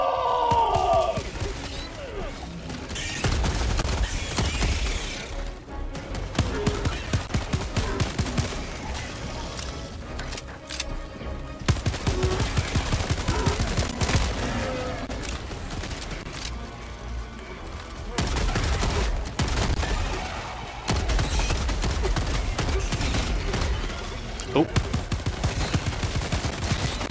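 The Spray & Pray weapon in the Helldivers 2 video game firing in rapid, sustained bursts with short pauses between them, loud and close, alongside explosive booms.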